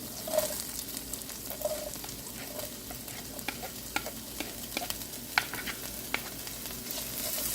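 Onions sauté in a pan with ginger-garlic paste, with a constant close sizzle under repeated scraping and clicking stirring strokes throughout.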